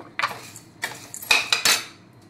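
Coconut, lentils and garlic dry-roasting in a pan, heard as a handful of sharp metallic scrapes and clinks of a utensil against the pan, spaced irregularly and close up, with no talking.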